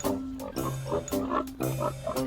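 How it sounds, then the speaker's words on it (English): A cartoon pig oinks in a series of short, nasal grunts with a playful rhythm, close and clear, with no talking over it. "Hello, Piggy."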